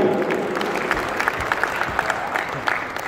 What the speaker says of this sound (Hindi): और बहुत भरपूर तालियां।